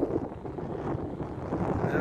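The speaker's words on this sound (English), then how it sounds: "Now it's getting a bit windy, sorry." Steady wind buffets the microphone in low, rumbling gusts outdoors in Cyprus's Troodos Mountains, with a faint voice briefly present.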